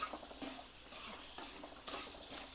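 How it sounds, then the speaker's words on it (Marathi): Sesame seeds and other misal spice ingredients roast in a pan while being stirred, giving a steady, faint sizzling hiss with soft scraping strokes throughout, close by and without talk. "हे व्यवस्थित सर्व व्यवस्थित भाजून घ्यायचं"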